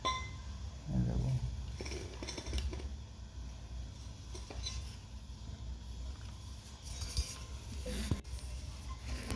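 A metal Milton water bottle with a Tata Motors logo is handled and unscrewed, giving scattered light clinks, taps and scraping clicks at close range over faint background noise.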